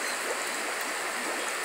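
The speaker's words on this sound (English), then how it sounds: "As you can see, it's bubbling nicely." Nutrient tea aerated by a single Dewey Mister, steady fizzing and bubbling with a continuous watery hiss, close and even throughout, no voices.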